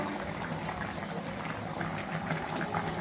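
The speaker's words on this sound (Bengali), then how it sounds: "বলক চলে এসেছে" A pot of koi fish curry with tomatoes on top comes to a boil, a steady soft bubbling and simmering heard up close and fairly quiet, with no voices.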